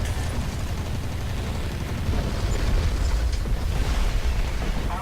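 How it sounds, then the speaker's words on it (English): A tank's ammo rack detonates in the War Thunder game, a loud rumbling blast with low booming roar and crackling debris that swells partway through, no voices. "He ammo racked us."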